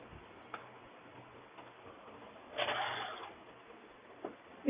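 A sewing machine runs a seam on a gharara, giving faint ticking stitches and one brief louder burst of fast stitching in a quiet room.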